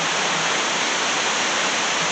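A river pours through a narrow rocky crevice, a constant dense roar of rushing water, loud and close, with no voices.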